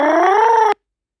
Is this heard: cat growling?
yes